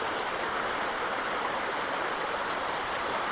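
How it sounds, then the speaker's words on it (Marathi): Steady rushing of a year-round spring-fed stream, continuous and fairly loud with no breaks, running close by. "इथे झरा आहे जो वर्षाचे बारा महिने असतो"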